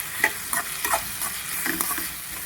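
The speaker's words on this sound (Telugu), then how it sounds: "సన్నగా తరిగిన టమాటాలు కూడా ఇందులోనే వేసి 2 నిమిషాలు ఫ్రై చేసుకుందాం" Finely chopped tomatoes frying in a pan for a gongura egg curry, a continuous moderately loud sizzle with soft spoon stirs and scrapes, no talking.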